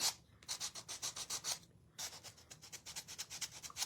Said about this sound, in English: I actually want to sand the edges of this die